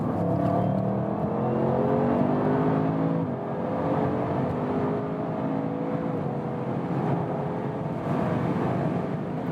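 An Audi RS7 Sportback runs at high speed on the Autobahn at around 200 km/h, with a steady, loud engine drone and road and wind roar that holds constant throughout, no talk over it.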